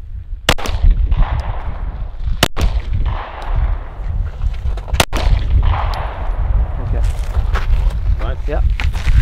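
Rifle shots ring out at a Norwegian Army shooting range, several sharp, loud cracks spaced a couple of seconds apart, each followed by brief metallic clinks, with people talking quietly between the shots.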